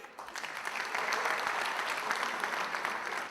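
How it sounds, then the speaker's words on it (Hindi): Dense, steady applause from an audience at an Eid mushaira poetry gathering, broadband clapping that rises quickly and holds at an even level for a few seconds with no speech over it. "तशरीफ लाते हैं आपकी भरपूर तालियों में वाक कैंट से तशरीफ लाए जनाबे मोहम्मद आरिफ।"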